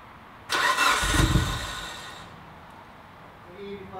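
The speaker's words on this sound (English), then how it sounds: "this is the first time the car gets turned on with the FP green" A Mitsubishi Evo IX with an FP Green turbo upgrade, running cold on E85, cranks and fires with a sudden loud burst, flares briefly, then settles into a quieter steady idle, with a voice speaking near the end.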